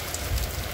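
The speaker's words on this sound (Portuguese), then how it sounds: "continua chovendo aqui em nossa cidade e região" Heavy rain pours down on a Sunday in Santana do Ipanema, a dense steady patter of drops on surfaces with no voices.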